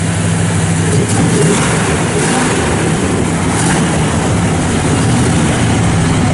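A 1970 Pontiac GTO engine runs steadily with the choke still partly on, a loud, continuous rumbling idle with a slightly raised, even drone throughout, close by and with no talk over it.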